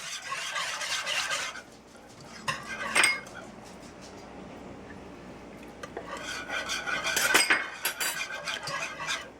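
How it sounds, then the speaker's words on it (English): Salt being stirred into a pan of chicken enchilada filling: scraping, rasping strokes of a utensil against the pan in two busy bursts separated by a quieter stretch, close and moderately loud with no talking. "So I'm going to stir this in and try again."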